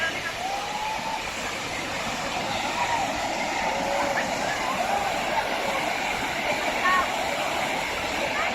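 Wang Takrai waterfall in Thailand, a broad, steady roar of falling water that stays even and continuous throughout, with people talking and calling out faintly over the rush.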